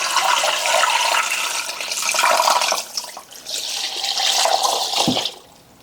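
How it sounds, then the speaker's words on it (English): Water gushes steadily into a pot of turkey bones for soup, a loud continuous pour that briefly eases midway, surges again, then cuts off near the end. "I'm going to add some water."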